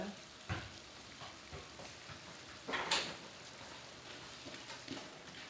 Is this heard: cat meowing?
no